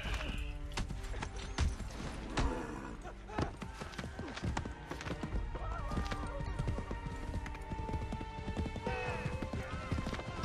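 Horse hooves clip-clop in Assassin's Creed 3, with repeated whinnies and neighs over a dense game soundscape. Voices talk intermittently throughout.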